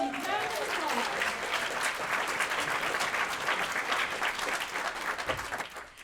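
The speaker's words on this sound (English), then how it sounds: "let's give Keith a rowdy round of applause." A large audience applauds steadily and loudly at a keynote symposium, a dense, continuous wash of clapping that holds for about six seconds before easing slightly at the end.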